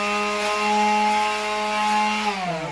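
Wood is sanded with 120 grit sandpaper while building a melamine shelf unit, making a steady, loud, close motor whine that slides lower in pitch as it winds down near the end.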